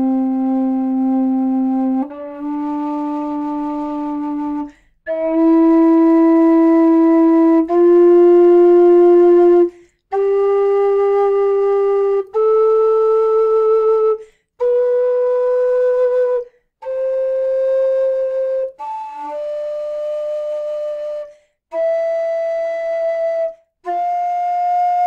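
A Howard low C whistle plays a slow ascending series of single sustained notes as a tuning test, each held a couple of seconds with brief gaps between them.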